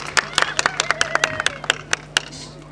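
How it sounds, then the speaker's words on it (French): Scattered clapping from a small audience at a cultural event, a dozen or so distinct, uneven hand claps close by, with a voice speaking over them. "Applaudissez tout le monde."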